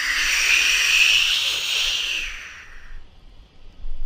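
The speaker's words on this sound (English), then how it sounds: "James let off steam." A steam locomotive named James, a red engine, lets off steam in one loud, sustained hiss that holds for a couple of seconds and then tapers away, heard on its own without talk.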